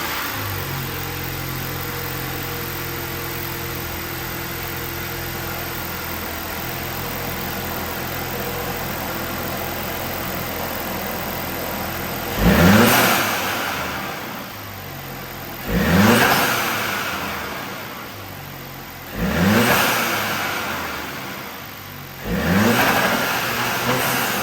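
2018 Audi A5 Sportback 2.0T with an APR carbon fiber intake and APR coils idles steadily for about twelve seconds, then gives four sharp revs, each surging and falling back toward idle.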